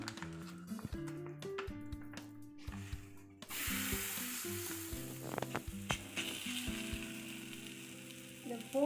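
A ragi and pearl millet adai is laid on a dosa tawa and starts sizzling softly, a quiet steady hiss that begins partway through over background musical tones.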